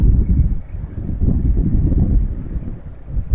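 Strong wind buffets the microphone with a heavy, continuous low rumble that surges and eases, with no voices.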